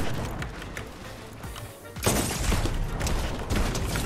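Gunfire in a Fortnite match with auto shotguns in play, a dense, loud burst of shots and impacts that thins briefly and then surges again, with no talk over it.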